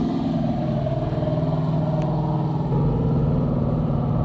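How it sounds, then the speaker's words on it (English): Turbocharged truck at a drag strip, a loud steady engine drone held close by, swelling slightly louder toward the end, with no talk. "That one definitely was turbocharged, that truck. It sounded like a jet turbine, but it was turbocharged"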